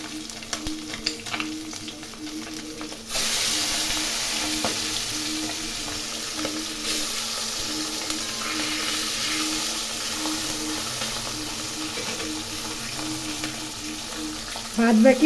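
Steady oil sizzle of pabda fish frying, jumping louder after a few seconds and continuing as a dense, even crackle with a low hum underneath.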